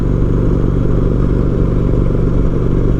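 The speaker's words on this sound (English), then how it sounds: "We've actually fallen in behind a couple of motorcycles here in front of us." The engines of a couple of motorcycles riding just ahead drone loudly and steadily nearby, a continuous rumbling hum with no break.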